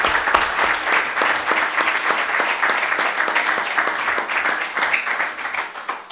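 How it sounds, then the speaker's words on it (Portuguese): Audience applause at a book launch event, dense steady clapping from a crowd filling the whole stretch with no talk. "uma salva de palmas para a Teresinha"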